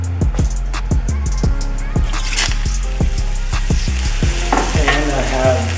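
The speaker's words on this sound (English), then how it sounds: "See the sauce boiling?" Sauce for jerk chicken boiling and spattering in a pot, with rhythmic bubbling pops and bursts repeating steadily, close up and loud.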